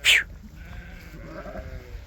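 A Beylagan breed sheep in a flock gives one short, close bleat at the start, followed by quiet low farmyard background noise.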